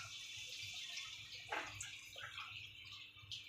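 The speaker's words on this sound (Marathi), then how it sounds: "हे आपण मटकी शिजवलेलं पाणी याच्यात टाकून घ्यायचं" Cooking water from boiled moth beans being poured into a pan of misal curry, a faint liquid pour and splash with a brief louder burst midway, quiet and alone without talk.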